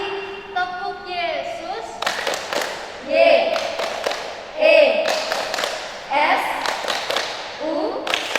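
Children's 'tepuk Yesus' clap chant at an Indonesian church children's gathering, with sharp rhythmic hand claps punctuating sung and spoken voices, close and fairly loud.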